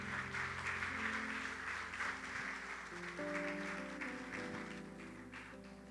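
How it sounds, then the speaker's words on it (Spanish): Church congregation applauding during a sermon, steady dense clapping mixed with sustained keyboard or organ tones underneath, gradually easing off. "Denle un fuerte aplauso al Señor."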